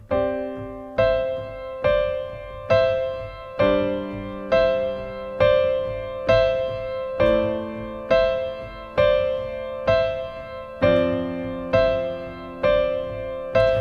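A repeating piano pattern in a higher register, the same figure struck about once a second with clear, ringing chords that decay between strikes.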